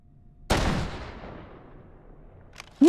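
A single loud gunshot from a firearm in the VR shooting game Hot Dogs, Horseshoes & Hand Grenades cracks sharply and rings out in a long decaying tail, with a brief clatter near the end.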